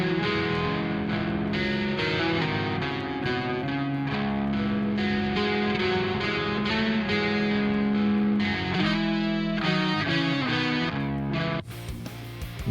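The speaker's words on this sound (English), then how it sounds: "Pan hard left, hard right, and then 55 left, 55 right. Together they sound like this." Two electric guitar parts, each played twice and panned hard left, hard right and partly left and right, through a Two Notes Genome amp simulator with overdrive; a dense, distorted chordal riff plays loudly and continuously, ending in a brief noisy burst.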